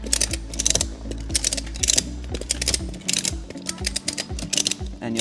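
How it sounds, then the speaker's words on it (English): Ratchet straps being cranked to tighten a Barletta pontoon boat cover, a steady run of sharp clicking pawl ticks in quick repeated bursts, close and loud. "you're gonna tighten the entire cover down using the ratchet system at the back here"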